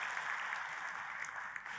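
Applause from a church congregation during a sermon, a steady bright crackle of many clapping hands filling the room without a break, moderately loud and with no voices over it.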